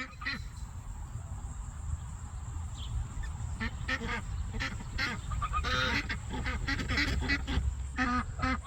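Breeder geese on a homestead honking and quacking in repeated bursts close by, with a low rumble of ground noise beneath and no talk over them.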